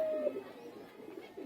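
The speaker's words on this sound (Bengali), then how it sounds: "এই যে ব্রিডিং কবুতর এখন আমার বর্তমানে আছে" Pigeon cooing from breeding pigeons in a coop on a foggy day, a soft low bird call close by, alone without talk.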